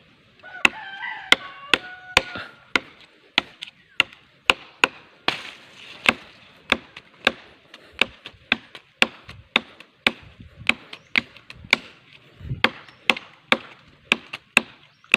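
Sharp, regular chops of a small bolo machete biting into wood on a farm, roughly one per second, with a rooster crowing faintly near the start.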